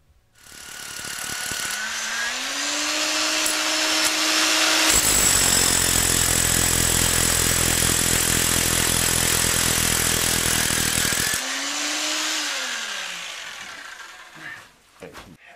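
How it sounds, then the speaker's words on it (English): A drill bores into a rubble stone basement wall of a farmhouse, a loud, steady grinding roar running for about six seconds in the middle, with machine hum and a rising whine before and after. "When you're drilling into a wall, you might hit a solid area."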